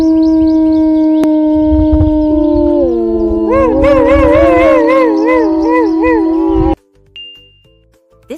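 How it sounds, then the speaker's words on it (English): A wolf howls in long, rising and falling wavering tones, several overlapping drawn-out howls held close and loud for most of the clip before cutting off, followed by a faint brief tone. "This is a wolf, a wild dog that hunts in packs and howls to communicate with friends."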